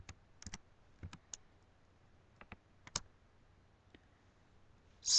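Sparse, irregular key clicks of typing on a computer keyboard while drawing in DraftSight CAD software, close and quiet with long gaps between taps and a louder burst at the end.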